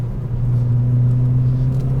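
Renaultsport Twingo 133 hot hatch engine revving hard in second gear on a country road, a loud steady drone with strong low rumble held throughout.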